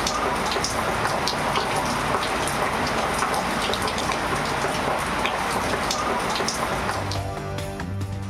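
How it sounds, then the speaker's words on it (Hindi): Heavy downpour in Punjab during urban flooding, a dense continuous hiss of rain on surfaces, loud and steady throughout with no voices, easing slightly near the end as a faint tonal hum appears. "लाहौर समेत पंजाब के मुख्तलिफ इलाकों में मूसलाधार बारिश।"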